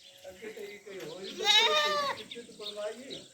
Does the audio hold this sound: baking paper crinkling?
no